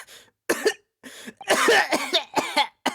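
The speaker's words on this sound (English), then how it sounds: "That's him coughing up all over the floor." A man coughs in a video game scene: a series of harsh, close cough bursts with short gaps between them, loud and clear with no talk.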